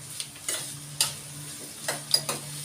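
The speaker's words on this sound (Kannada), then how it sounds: "ಈ ಸಾಮಗ್ರಿಗಳು ಇದನ್ನು ಇದಕ್ಕೆ ನಮ್ಮ ಒಗ್ಗರಣೆಗೆ ಸೇರಿಸ್ಕೊಳ್ಳೋಣ ಅದನ್ನು ಕೂಡ ಬಾಡಿಸ್ಕೊಳ್ಳೋಣ" Chopped ingredients sauté in a tempering for tomato bath, a low steady sizzle broken by several sharp spatula scrapes and taps against the pan at irregular intervals.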